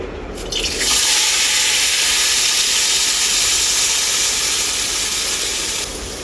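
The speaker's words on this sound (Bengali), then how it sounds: "এরপর আমি সেদ্ধ করা কাবলি ছোলাগুলো তেলে ভেজে নেব" Boiled chickpeas hit hot mustard oil in a pan and set off a loud, steady sizzling hiss that holds evenly for several seconds and then eases slightly, with no voices.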